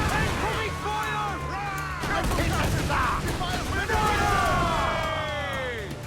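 Cannon fire and explosions in the Assassin's Creed IV Black Flag video game, loud booming blasts and rumble over chaotic battle noise, with shouting voices throughout.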